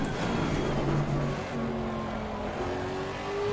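A race car engine in Assetto Corsa Competizione drones loudly and steadily, its pitch dipping briefly and then climbing again as the throttle changes, with no speech heard.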